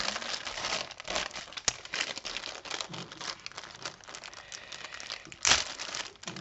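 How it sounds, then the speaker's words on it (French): Die-cut paper for a 3D pop-up card being torn and peeled away, a steady run of dry crinkling and ripping with a few sharper tears, close and alone without talk. "ça se déchire trop mal"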